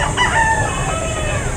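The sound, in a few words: rooster crowing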